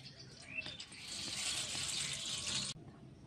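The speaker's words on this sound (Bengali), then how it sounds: "পাকা উচ্ছেটাকে ধুয়ে নেব।" Ripe bitter gourd rinsed in a bowl of water, a steady close splashing and trickling for a couple of seconds that cuts off abruptly, with faint birdsong behind.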